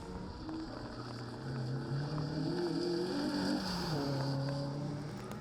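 A Renault Clio rally car crewed by Blair and Shannon Thompson for Army Motorsport runs at Knockhill during a circuit rally, its engine a steady, moderately distant drone that swells and eases as the revs climb and fall.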